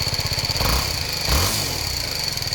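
A motorcycle engine runs at a steady idle with a harsh, rough exhaust note, a fast rhythmic putter that swells briefly twice as the throttle is blipped, heard close and alone.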